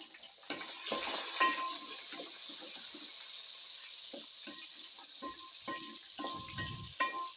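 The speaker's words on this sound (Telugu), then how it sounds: "మీల్ మేకర్ అయితే కొద్దిగా ఫ్రై అవ్వాలి." Meal maker soya chunks fry in a pan for a vegetable pulao, giving a soft continuous sizzle broken by scattered scrapes, clinks and stirring knocks, close by with no talk.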